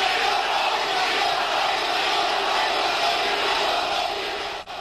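A large crowd at a May Day rally boos and jeers President Vicente Fox, a continuous, loud roar of disapproving voices and shouts that carries on unbroken, with no single speaker standing out.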